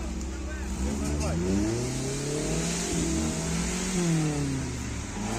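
An off-road car stuck on rough terrain revs hard and continuously, its engine rising and falling in pitch as it strains, with people talking over the roar.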